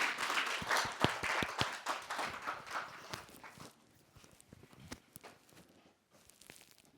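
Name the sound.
audience applause for a speaker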